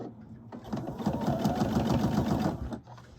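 Sewing machine stitching a curved princess seam through four layers of velvet, a steady rapid mechanical whir with dense needle clatter that builds in after a brief pause and stops abruptly near the end.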